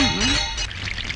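Water is poured, a short close trickle with a faint clink of a vessel at the start, lasting about a second.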